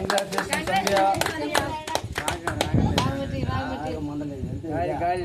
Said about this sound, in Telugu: చప్పట్లు చప్పట్లు రా